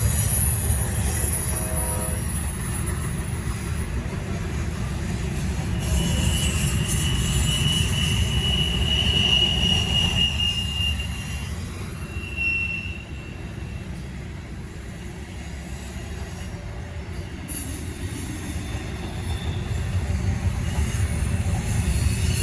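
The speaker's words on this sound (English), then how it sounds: "This is my last train right here." A continuous rumbling roar of a Norfolk Southern train passing nearby in the Charlotte District, steady throughout with faint high squeals and hiss layered on top.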